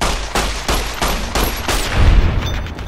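Repeated gunfire in the video game Fallout New Vegas, about six loud, evenly spaced shots, each with a sharp crack and a short decaying tail, then a heavier thump near the end, with no talk.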